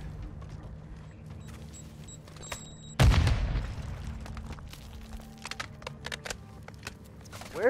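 A grenade detonates in a shooter game where the pistol acts like a shotgun: a single sudden, loud boom with a crackling tail that fades over a few seconds, followed by scattered sharp clicks and small impacts.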